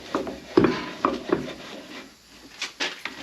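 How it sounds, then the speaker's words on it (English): A tire mounted on an Atlas WB42 wheel balancer is spun and jiggled into place, giving a few faint, irregular knocks, rubs and clunks spaced through quiet moments. "Then you can spin it and jiggle the tire to make sure it's set in the right space."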